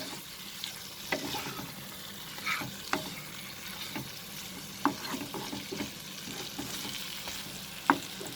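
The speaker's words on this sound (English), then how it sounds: "Now we will remove the lid, stir it." Chicken roast in a pan over a low flame gets stirred after the lid comes off: a soft continuous sizzle with scattered scraping and clinking spoon strokes, close and moderately loud, with no voices.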